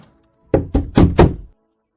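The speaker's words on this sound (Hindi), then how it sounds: "लगता है दरवाजे पर फिर कोई आया है" Four firm knocks land on a wooden door, two single raps followed by two heavier ones, loud and close in an otherwise quiet room.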